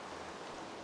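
Rain falls at night in the video game Minecraft, a soft, even hiss of steady rainfall with no other sound over it.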